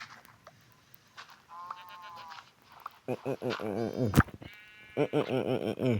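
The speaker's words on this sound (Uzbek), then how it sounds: "Echkining nima foydasi bor bizga?" A goat bleats in Minecraft, one-block island mode, with a couple of nasal, wavering cries amid soft game sounds, while a person talks over the later part.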